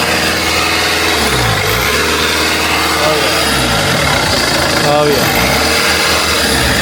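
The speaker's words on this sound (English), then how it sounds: "Give it a good rev, please." A scrapyard car engine idles loudly and is revved several times, the pitch rising and falling with each blip, while someone speaks briefly over the steady engine drone.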